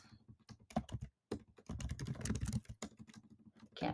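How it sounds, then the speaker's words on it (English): Fingers type on a computer keyboard in quick, uneven bursts of close, soft key clicks, with a brief pause near one second, quiet and with no talk. "Can't type today, that's fine."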